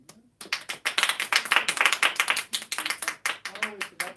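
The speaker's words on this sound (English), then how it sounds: "So can we give a round of applause for Brenda?" Audience clapping at an open mic night in a bookshop, a burst of close, sharp claps after a brief pause that thins into scattered hand claps toward the end.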